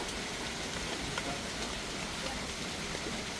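Steady rain falls on a rainforest butterfly exhibit, a constant broadband hiss at even loudness for the whole stretch with no voices.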